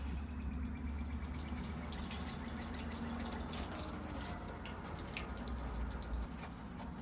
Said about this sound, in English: We gotta rinse out all this dirt.